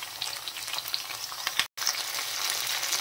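Chopped onion and two large potatoes fry in a pan over a medium-high gas flame, giving a steady, close crackling sizzle that runs throughout with one very brief break.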